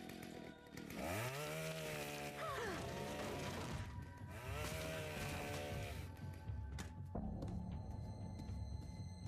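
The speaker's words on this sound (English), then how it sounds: "the ear-splitting sound of power tools" A loud chainsaw-like power tool whines and revs continuously, its pitch rising and falling, with harsh mechanical buzzing close by.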